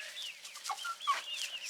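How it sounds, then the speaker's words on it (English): Backyard chickens clucking while chicks peep and call for their mother hen, several high, overlapping chirps close by with no voices. "So I think I hear Heather's babies looking for her again"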